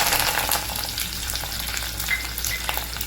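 Green chillies, curry leaves, cumin and finely chopped ginger sauté in a pan, making a dense, continuous close sizzle with light stirring over the short stretch.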